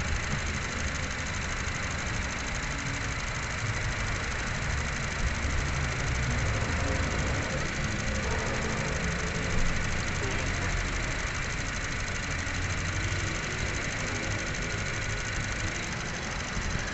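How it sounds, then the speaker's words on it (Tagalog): A Honda City car engine idles steadily with a constant low hum and faint mechanical ticking, close by and unchanging, during a CVT fluid change. "So habang umaandar yung makina niya"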